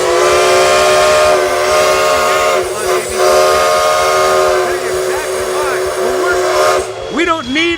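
The 1891-built Sierra No. 3 steam locomotive sounds its whistle in a long, loud, sustained blast with hissing steam, then a brief shorter toot as voices rise in the background.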